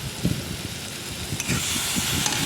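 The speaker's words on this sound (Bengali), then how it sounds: "ভালো করে একটু ভেজে নিই।" Pointed gourd (potol) frying in a pan, a steady hiss and sizzle that continues throughout with small crackling pops.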